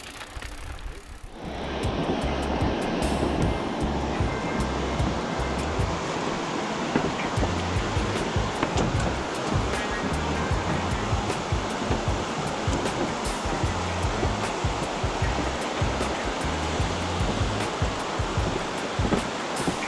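Broad, steady rushing roar of the Duero river carrying plenty of water, heard continuously and fairly loud after a brief quieter start, with no voices over it.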